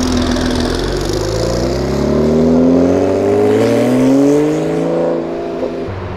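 A heavily tuned Nissan GTR, billed as Brazil's strongest, revs hard and accelerates out of a gas station, its loud engine roar climbing steadily in pitch for several seconds before easing as it pulls away.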